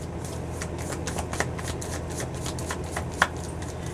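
Tarot cards shuffled by hand during a reading, a steady run of soft riffling flutters with a couple of sharper snaps, close up and on their own with no talk.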